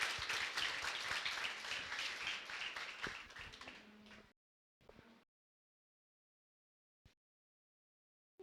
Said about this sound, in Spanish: tu pueblo te agradece con fuerte lluvia de aplausos